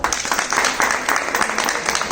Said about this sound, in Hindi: सबसे पहले बहुत बहुत हमारे को रीना दी और आजिब के लिए एक बार जोरदार तालियां